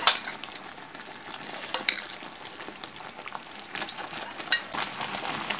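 Blackberries simmering in hot sugar syrup in a pan, a steady soft bubbling and crackling sizzle with occasional small pops, close by and without voices.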